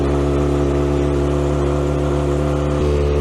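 A Kawasaki Ninja ZX-4RR motorcycle engine, freshly ECU-tuned, runs loud and close at a steady high rev with a strong buzzing tone and a slight dip in pitch near the end.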